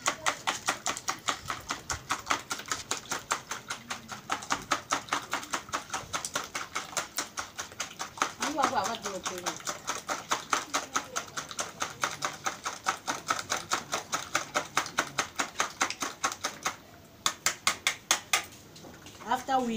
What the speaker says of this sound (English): We keep it aside and then we break the eggs. I'm going to be whisking the eggs